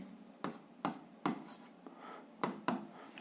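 Scratchy strokes of a pen writing an algebra equation by hand, several short irregular scrapes and taps close to the microphone, fairly quiet, with no voice over them.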